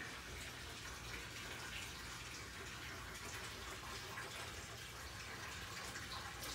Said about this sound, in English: And here you can see my 125 is still filling up.